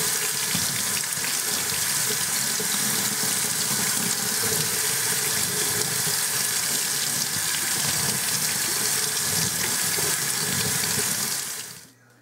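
Steady tap water runs into a sink while aquarium plants, dwarf hair grass, are rinsed strand by strand, a continuous close hiss that stops abruptly at the end.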